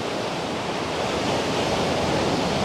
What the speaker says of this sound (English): Allow the sounds of the ocean to ground you